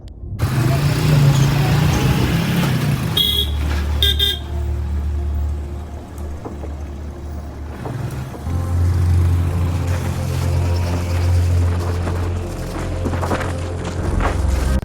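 Motorbikes ridden by a group of four friends along an unfamiliar mountain road in Meghalaya, a steady low engine drone running continuously throughout, with a brief horn-like toot near the start.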